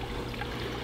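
Water trickles and splashes from a simple waterfall system feeding guppy ponds made of 60-gallon Laguna totes and a 27-gallon Home Depot sump, a steady close burble with no breaks.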